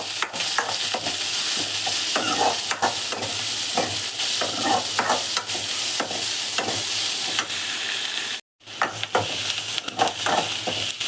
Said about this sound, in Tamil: வெங்காயம், பச்சை மிளகாய் இதெல்லாம் போட்டு இந்த அளவு வதங்கினோன்னே